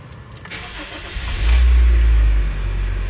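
Honda BR-V car engine starting: a short starter crank, then the engine catches and settles into a loud, close, low idle rumble.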